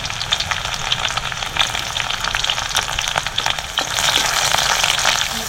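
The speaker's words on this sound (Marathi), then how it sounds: "आता आपल्याला ह्याच्यात लसूण टाकायची आहे, मिरची टाकायची आहे." Garlic and green chillies fry in hot oil in a kadhai with a close, crackling sizzle full of sharp pops. The sizzle swells louder toward the end, and no one speaks.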